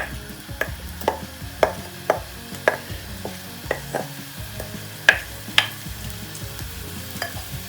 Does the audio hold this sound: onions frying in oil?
yes